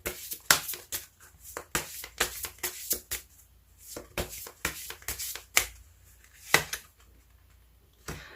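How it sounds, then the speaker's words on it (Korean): Tarot-style advice cards shuffled and drawn by hand, giving a series of crisp, close slaps and snaps in irregular bursts with quieter rustling between them, no talking. "조언점 카드 한 장 더 뽑아보도록 할게요"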